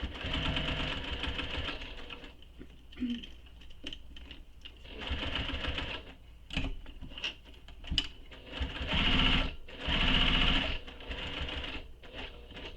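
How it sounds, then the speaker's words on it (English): A sewing machine stitches a handmade leather satchel in several close, loud bursts of rapid mechanical chatter, separated by short pauses. "So now I'm going to again stitch along."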